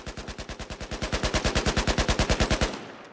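A SAR-21 rifle in Battlefield 4 fires a full magazine on full auto: about twenty-five rapid, evenly spaced shots in a steady rhythm, loud and close, ending with a short tail.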